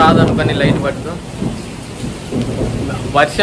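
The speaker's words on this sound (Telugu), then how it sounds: "ఫుల్ వర్షం పడుతుంది" Heavy rain falls outside a shop in a thunderstorm, a loud steady wash of rain with deep rolling thunder rumbling underneath and a brief voice-like sound near the end.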